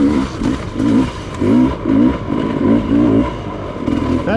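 A Sherco dirt bike chugs up a steep hill in second gear, its engine note rising and falling in a rhythmic, lugging pulse close by, with no talking.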